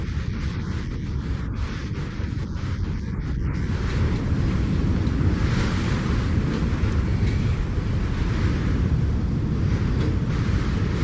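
Typhoon at sea off northern China, with a steady, dense roar of wind and crashing waves and buffeting noise throughout, loud and continuous with no voices.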